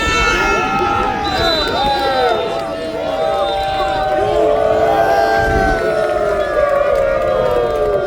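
A football crowd at a Brazilian Série D match between Parnahyba and Iguatu, after a 0–2 home loss as the home team leaves the field. Loud, continuous massed crowd noise with wavering horn-like tones drifting through it.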